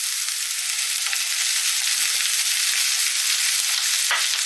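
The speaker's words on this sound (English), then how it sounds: "so in go the onions straight away" Onions dropped into hot oil in a saucepan give a loud, steady, close sizzle that fills the whole stretch without pause and with no talking over it.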